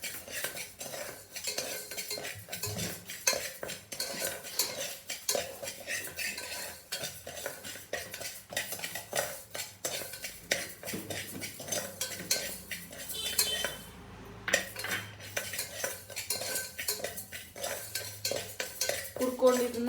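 Rice and sago are dry-roasted in a pan while a metal spoon stirs and scrapes constantly, giving a busy run of close clinks and scratches over a faint sizzle, with no speech.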